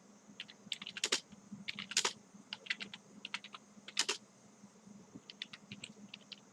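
Quiet keystrokes on a computer keyboard as sample text is typed into an HTML page, coming in short irregular bursts of clicks with brief pauses between words.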